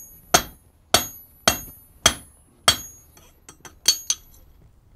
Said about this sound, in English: and flattened with the hammer